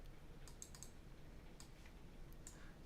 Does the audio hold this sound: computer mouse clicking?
yes